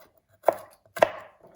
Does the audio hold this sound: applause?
no